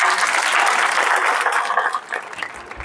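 Loud, dense applause from an audience at a farmers' gathering fills the room for a few seconds before thinning out and fading.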